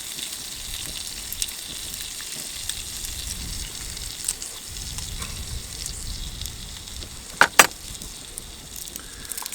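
Creamy white pasta sauce with a crushed garlic clove simmers in a Trangia camping pot, a quiet continuous sizzle and bubble with a few sharp metallic clinks near the end.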